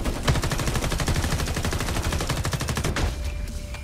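Sustained rapid automatic gunfire in Homefront: The Revolution, dense continuous bursts for about three seconds that cut off abruptly, leaving quieter background game sound.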